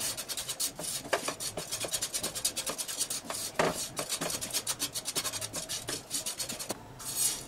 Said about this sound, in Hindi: ये बहुत जल्दी भून जाता है, तो इसे हमें ज़्यादा नहीं भूनना है।